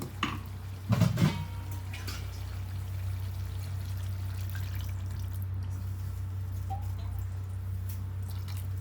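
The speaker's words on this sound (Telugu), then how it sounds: "ఇప్పుడు వాటర్ పోసుకుందాం కొంచెం" Water is poured into a pan of dry fish curry, a short splashing gush near the start followed by a soft, steady simmering hiss that continues faintly.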